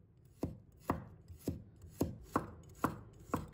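A knife slices garlic cloves on a cutting board, eight crisp, evenly spaced chops close by, with no talk.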